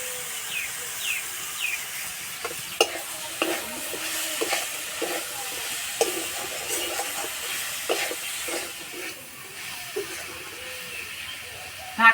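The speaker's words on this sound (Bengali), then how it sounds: "মশলার সঙ্গে কফিটা একটু ভালো করে কষিয়ে নেব" Cauliflower fries in a pan with salt and spices, a steady sizzle broken by repeated scraping strokes and knocks of a spatula stirring, fairly close and with no speech.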